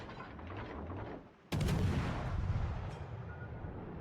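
Naval guns fire at an enemy Conqueror battleship in the World of Warships Legends game. A loud, sudden booming salvo breaks in midway and rolls on in a rumbling decay over low background battle noise, with no talk.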